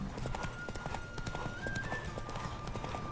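Horses galloping in a race at a racetrack in the video game Witcher 3, rapid rhythmic clip-clop of hooves close by with a horse's whinny mixed in, steady and driving throughout.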